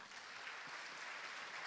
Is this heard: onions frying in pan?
no